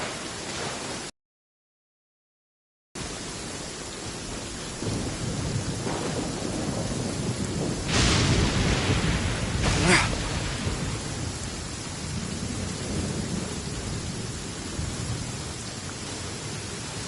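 Thunderstorm with steady rain in the game Genshin Impact, a dense rain hiss throughout, broken by a brief gap near the start, with two loud rolling thunder cracks swelling in the middle before the downpour continues.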